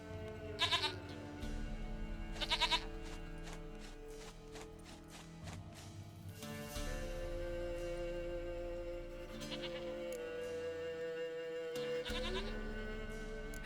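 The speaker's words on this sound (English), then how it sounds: "Goat of mine, dearest, sweetest goat." Goat in the video game The Witcher 3: Wild Hunt bleating in a few short, wavering bursts near the start and middle, heard over a steady ambient game soundscape with music-like drones.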